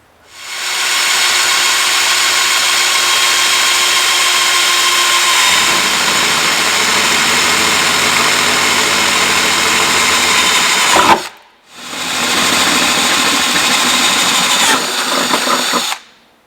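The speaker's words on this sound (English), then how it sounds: "And I'll drill my 2 holes where I have those marks." Power drill boring two holes in metal on a Land Rover Discovery II for ladder mounting, a loud continuous whine lasting about ten seconds, a brief stop, then a second drilling burst, close and without talk.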